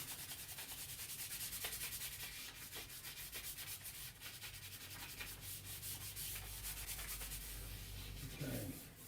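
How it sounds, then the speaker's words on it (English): Hands rub firmly back and forth over kinesio tape stuck on skin across a shoulder, a soft, steady close-up friction swish that runs continuously and quietly. "As always, give it a good rub to activate the glue."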